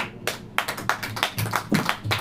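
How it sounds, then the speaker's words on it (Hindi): A church congregation claps hands together in a brisk, fairly even rhythm of sharp claps, close and clear, with no talk over it. "अगर आप ऐसा चाहते हैं तो ताली बजाएं।"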